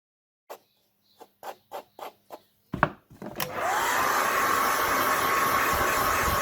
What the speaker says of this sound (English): I'm going to do a brush blow dry